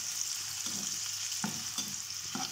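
Broccoli and potato cook in a pan with a steady high sizzle, punctuated by several soft scraping stirs spaced about half a second to a second apart.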